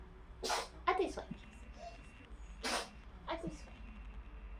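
Two sharp, breathy sneezes burst out a couple of seconds apart indoors, each followed by quieter snuffles and breaths, against a faint low background hum.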